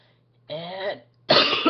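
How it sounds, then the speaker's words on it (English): A sick person coughs twice in quick succession, close and fairly loud, the second cough harsher and longer, with near silence before and between. "so I'm coughing a lot."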